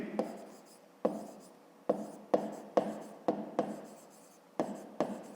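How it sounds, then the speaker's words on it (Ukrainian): Pen strokes scratching across paper while working a fifth-grade maths exercise: a series of short, distinct strokes, each starting with a sharp tap and trailing off, spaced unevenly about a second apart, close and fairly quiet. "Пишемо в дужках чого кілометрів."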